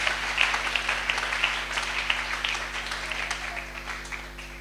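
Applause from a church congregation during a French-language sermon, a steady wash of clapping with scattered sharper claps, moderately loud and sustained before slowly easing off.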